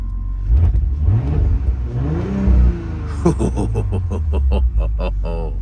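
Audi S4 at a Copart salvage yard, engine idling, then blipped in a couple of quick revs that rise and fall, followed by a rapid throttle burst, loud and close with no talk.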